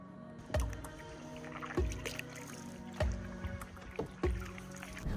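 A canoe or kayak paddled on a lake, heard as evenly spaced paddle strokes, each a soft watery plunge and swirl about once a second, close and moderately loud with no talking.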